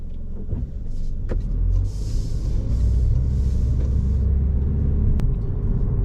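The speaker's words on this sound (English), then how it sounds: "just going to go for a little drive in the Corolla" Cabin of a 2023 Toyota Corolla ZR on the move, with a constant low engine and road rumble and faint higher wind and tyre hiss, plus a couple of small interior clicks.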